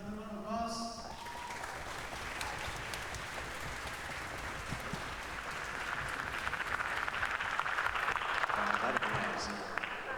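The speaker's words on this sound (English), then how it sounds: "Give another round of applause." An audience at a concert breaks into sustained applause for a soloist, a dense wash of clapping that swells slightly toward the end, with a brief snatch of music fading at the very start.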